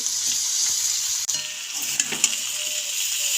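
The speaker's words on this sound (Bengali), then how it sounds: "এখন সেদ্ধ করে রাখা চাউমিনগুলো দিয়ে দিচ্ছি" Boiled chow mein noodles fry with winter vegetables in a hot pan, a steady close sizzle with occasional stirring clinks and scrapes, no talking.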